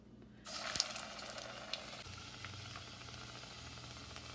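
Batata vada, potato balls dipped in batter, drop into hot oil and set off a sudden loud, bright sizzle that settles into a steady, close frying hiss with small pops, and no talk.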